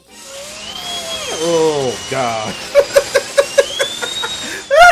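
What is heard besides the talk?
dentist drill sound in a wrestling theme song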